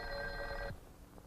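Electromechanical telephone bell on a step-by-step switching demonstration set, a brief metallic ringing burst that stops abruptly, leaving quiet room noise.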